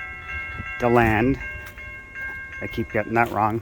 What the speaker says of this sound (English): here comes the Silver Meteor to New York. This is a northbound train at DeLand.